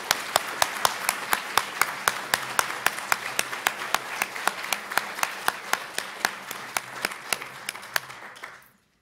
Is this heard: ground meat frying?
no